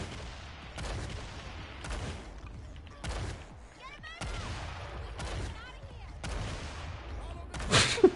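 Bursts of gunfire and rocket blasts from the heist video game Payday 2 come in repeated sharp volleys about once a second, loud and close, with players talking between and over the shots.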